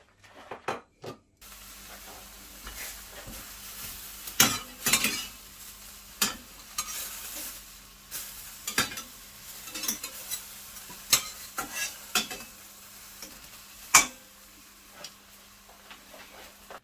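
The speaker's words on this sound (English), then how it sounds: "I'm just going to put this bacon in there and cook it well" Bacon frying in a dry pan without oil, crackling and spitting in irregular pops and sizzles, close and moderately loud with no talking.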